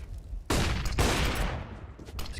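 Gunfire rips out in a Counter-Strike esports match, two loud, close rapid bursts of automatic fire with a brief gap between them, then a fading tail and a final shot.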